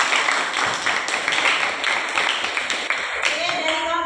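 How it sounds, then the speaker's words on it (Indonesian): Classmates applaud a student group after its presentation in a class session, a short burst of brisk clapping from a modest group with some voices in the room, easing off near the end. "beri tepuk tangan untuk temannya"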